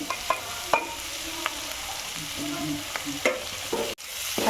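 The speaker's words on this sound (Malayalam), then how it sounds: "ക്യാപ്സിക്ക വഴറ്റിയെടുക്കുകയാണ് നമ്മൾ" Capsicum and carrot sautéing in a pan, with a steady soft sizzle and scraping spatula strokes and clinks throughout, close and moderately loud, without talk.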